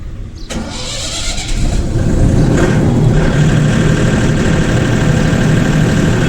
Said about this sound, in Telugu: చూడండి ఇక్కడ డీజీ స్టార్ట్ అవుద్ది